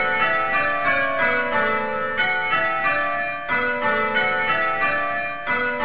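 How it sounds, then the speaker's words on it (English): Six simulated tower bells from Abel bell-ringing software ring rounds, a steady repeating descending sequence of clear bell strikes with long overlapping resonance, loud and alone. "you have now rung rounds on 6"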